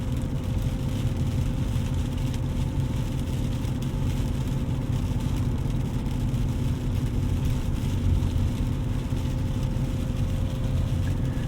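2001 BMW E39 M5 on a test drive, a steady low engine drone and road rumble from inside the car, even and continuous at cruising speed with no speech.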